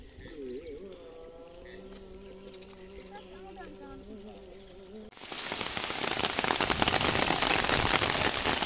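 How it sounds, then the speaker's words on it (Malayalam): Heavy rain in Kerala, beginning abruptly partway through as a loud, steady, dense hiss of drops pounding the surface. Talk is heard before the downpour starts. "വളരെ ശക്തമായ മഴ തന്നെയാണ് നമ്മൾക്ക് കുറച്ച് ദിവസമായിട്ട് കിട്ടിക്കൊണ്ടിരിക്കുന്നത്."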